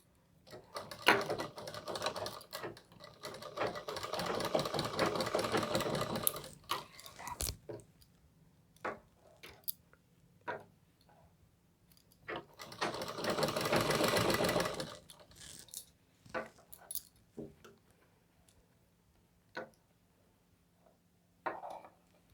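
Stitching a round collar suit, a sewing machine whirs in two runs of several seconds each, separated and followed by scattered clicks and taps of handling; no voices.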